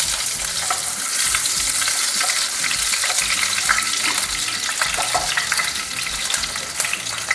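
Fenugreek, green chilies and curry leaves frying in hot oil for raw mango gojju, giving a dense, continuous close sizzle with crackles and occasional stirring scrapes.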